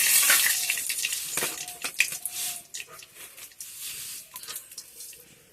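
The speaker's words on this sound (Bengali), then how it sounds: "তো এবার এই শুকনো লঙ্কাটা এর মধ্যে দিয়ে দিই।" Dried red chilli hits hot oil in a small home kitchen pan, a loud initial sizzle and crackle that settles into softer uneven spitting and popping, no talking.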